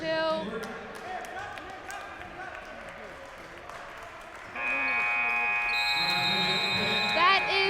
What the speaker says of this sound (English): The final buzzer.